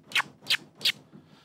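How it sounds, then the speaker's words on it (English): A DJ stab scratch played on a CD deck at a raised pitch: three short, sharp bursts at an even, quick rhythm, loud and close, with faint noise after them and no talking. "Now the stab is where you keep hold of the platter,"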